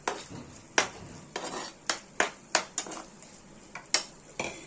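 Prawns going into fried masala in a pan for prawn rezala, giving a run of sharp metallic clinks and scrapes of a utensil against the pan at irregular intervals over a soft, steady sizzle.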